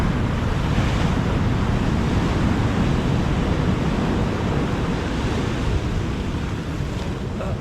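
Ocean surf churns and tosses sand along an island beach, a steady, loud roar of breaking water with wind buffeting the microphone throughout and no voices.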